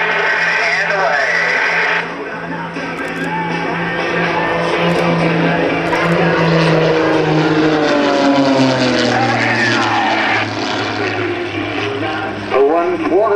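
Propeller aerobatic airplanes of the Iron Eagles team fly at the 2010 Greenwood Lake airshow, a steady loud engine drone rising and falling in pitch as they maneuver, with a commentator talking over it throughout.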